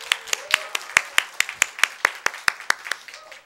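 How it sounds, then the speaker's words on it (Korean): Encouraging applause from a church congregation at a Christmas singles worship service, a modest group clapping in a quick, fairly even rhythm of distinct sharp claps, close by and faint overall. "격려 박수 드릴까요"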